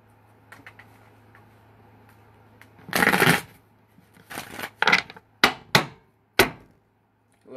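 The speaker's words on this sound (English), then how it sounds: "I'm going to give it 3 more shuffles." A deck of tarot cards is shuffled: one long riffling burst, then several short, crisp snaps and flicks spaced about half a second apart, close and clear over a faint steady hum, with no talking.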